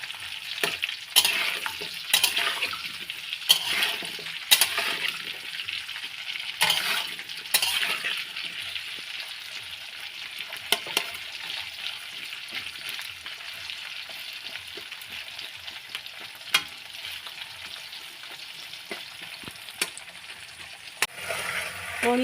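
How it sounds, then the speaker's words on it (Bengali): Potatoes frying in oil in a pan, a continuous close sizzle with frequent sharp scrapes and clinks of a utensil stirring against the pan, steady for the whole stretch with no talking. "আলুগুলোকে ভালো করে ভাজবো।"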